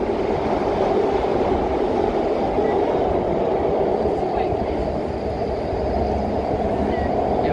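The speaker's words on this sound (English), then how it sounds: "And you can hear the train, the underground train, right underneath there." A continuous low rumble of an underground train passing beneath a street near Ohio Street in downtown Chicago, steady and fairly loud with a faint rattling texture throughout.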